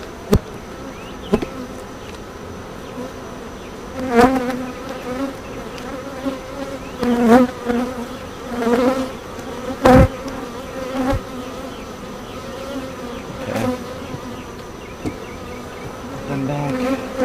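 Honeybees buzz steadily around an open hive as a brood frame holding stored nectar is lifted out, a dense, close insect drone with louder swells as individual bees pass near, and no talking.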